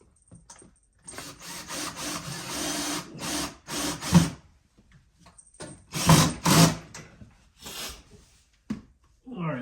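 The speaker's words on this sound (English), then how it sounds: "so I can use it to drill a hole" Power drill boring a hole at home, in several bursts of whirring with short pauses between them, fairly close and moderately loud, with no talk over it.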